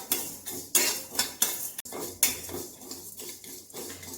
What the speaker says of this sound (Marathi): त्याच्यामध्ये दालचिनी, 2 चमचे जिरे, 1 चमचा मेथी दाणा, सगळं भाजून घ्यायचं थोडं थोडं.